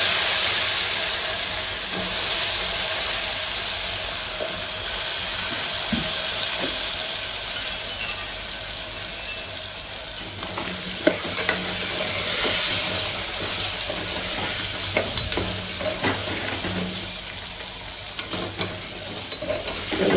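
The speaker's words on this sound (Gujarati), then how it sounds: "બટાકાને 5-1 મિનિટ આવી રીતે શેકી લેવાના છે" Potatoes dropped into hot tempering (vaghar) with turmeric for a Gujarati potato curry fry over low gas, making a loud continuous close sizzle with occasional stirring scrapes and spatters, no talking.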